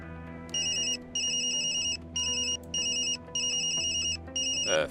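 A phone rings in the video game Tokyo Dark, a bright electronic ringtone pulsing in repeated bursts with short gaps between them, heard alone over a low steady game music bed.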